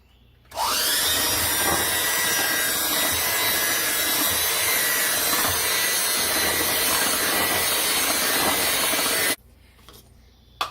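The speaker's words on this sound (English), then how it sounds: "I'm going to mix this up with an electric mixer." An electric mixer whirs steadily through cake batter for the Firecracker Bundt Cake, a loud continuous motor drone lasting about nine seconds before cutting off into near silence.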